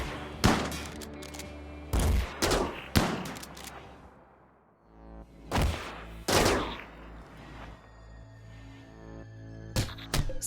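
Minigun-like phaser weapons fire in RimWorld in several sharp bursts spaced across the stretch, loud and close, with quieter gaps between the volleys and no voices.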